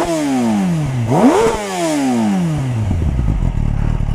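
A Kawasaki Ninja ZX-10R sport bike engine revs loudly nearby, its pitch falling, then spiking sharply with a quick throttle blip, then dropping back into a rough, clattering idle.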